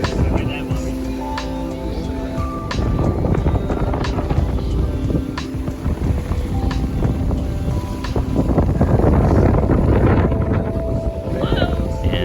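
Wind gusts buffet a sailboat under way, a loud continuous rushing roar with microphone buffeting and water wash, rising toward the end while someone speaks over it.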